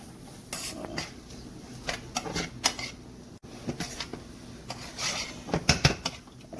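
Shrimp with paprika is stirred in a metal pot, with repeated spoon scrapes and clanks against the sides in irregular bursts over a faint sizzle.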